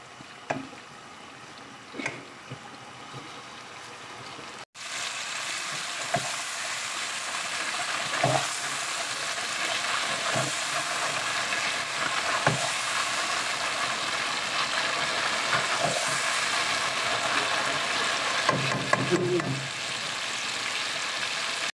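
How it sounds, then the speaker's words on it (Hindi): Tomatoes and spices sauté in a pan for a spicy potato and eggplant curry, a steady close sizzle with occasional stirring scrapes and taps that grows louder after a brief pause. "अच्छी तरह से जब आप भून लेंगे तो सारी चीज़ें मसाला वगैरह भी इसको अच्छे से लग जाएगा"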